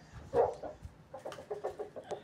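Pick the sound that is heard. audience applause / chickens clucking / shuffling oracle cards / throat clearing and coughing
chickens clucking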